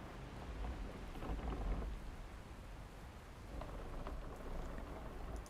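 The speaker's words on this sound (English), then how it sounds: "Weather sure took a turn." Rain and thunder roll over the high seas around a boat in the game Guild Wars 2, a steady hiss of rainfall with low, rumbling thunder swelling twice, heard fairly quietly and without talk.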